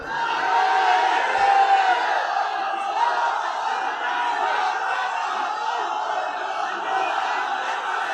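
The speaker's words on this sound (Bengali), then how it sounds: "আওয়াজ করে তাকবীর পড়েন" A large gathered crowd shouts takbir together, a sustained loud massed roar of voices that carries on without pause.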